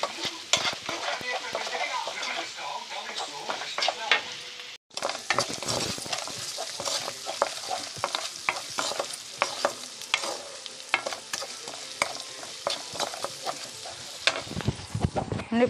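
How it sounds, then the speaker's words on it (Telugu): Fish masala with turmeric and salt fries loudly in a pan for Andhra-style fish pulusu, a dense continuous sizzle broken by frequent scraping stir strokes, with one brief pause partway through. "ఇప్పుడు పసుపు ఉప్పు వేసి బాగా ఫ్రై చేయాలండి"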